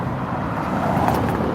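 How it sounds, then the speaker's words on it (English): Car zooming past on Paradise Road, Las Vegas, a steady roadside whoosh of traffic that rises slightly as the vehicle goes by, heard up close. "Your car's zooming by here."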